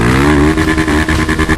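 A motorcycle engine in the video game GTA V revs loudly up and down in a short, close burst with a throaty, buzzing tone and no voices.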